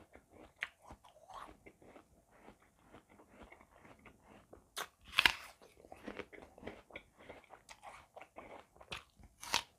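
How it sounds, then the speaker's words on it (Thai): Someone bites and crunches a red-fleshed apple, giving crisp irregular crunches and wet chewing up close at low volume, with one louder snap midway. "แซ่บแอปเปิลเนื้อแดง อร่อยบอกต่อเยอะๆจ้า"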